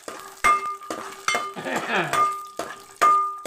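Husked fenugreek seeds fry in a pan for a mint chutney, giving a close sizzle with a brief louder crackling burst, broken by sharp clinks and scrapes of a spoon against the pan.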